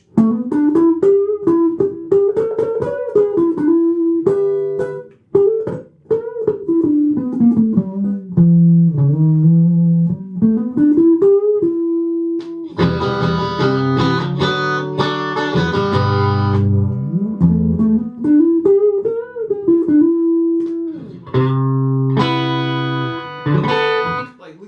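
An electric guitar plays melodic lines and chords, its tone shifting between warmer, softer passages and brighter, fuller bursts.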